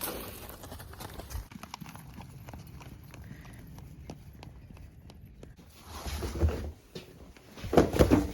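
Horses' hooves clip-clop on a hard surface as they are led out for turnout, a steady run of close, light hoofbeats followed by a few louder thuds and scuffs near the end.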